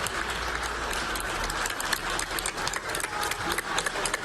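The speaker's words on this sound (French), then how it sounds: "Puis se sont succédés des tonnerres d'applaudissements collectifs" Neighbours clap together from homes during the lockdown in a dense, sustained burst of applause from many hands, with a low rumbling drone underneath and no speech.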